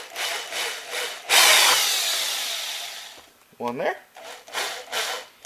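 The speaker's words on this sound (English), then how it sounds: "Now that you've marked it out, drill a couple holes." Holes are drilled into a plastic coolant reservoir cap: a harsh, steady whirring grind runs for about two seconds and fades, with short tool noises and a brief spoken comment around it.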